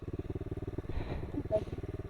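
A motorcycle engine idles nearby with a fast, even pulsing thump, and midway a brief rev swells the sound before it settles back into the regular idle beat.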